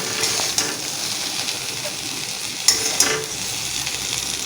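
Spicy fried okra (bhindi) is scooped from a sizzling pan, a constant hiss of frying with a few sharp scrapes of the spoon against the pan, close and unvoiced.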